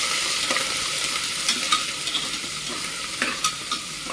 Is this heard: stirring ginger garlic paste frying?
yes